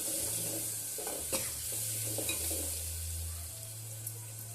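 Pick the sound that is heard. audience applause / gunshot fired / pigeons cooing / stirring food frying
stirring food frying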